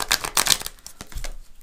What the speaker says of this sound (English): Tricky shuffle there.